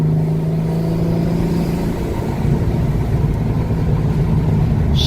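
A turbocharged car accelerates hard under boost, its engine drone building and rumbling loudly from inside the cabin for the whole stretch.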